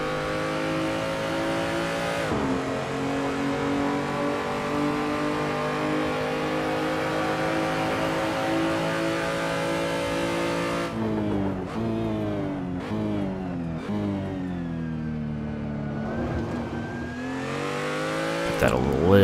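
BMW M235i engine lapping the Nurburgring in Assetto Corsa, a loud steady drone that climbs and drops through the gears with rev changes and some tire noise. A voice talks briefly.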